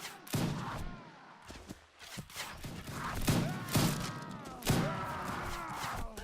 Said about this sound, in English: I reload quick, I fire quick.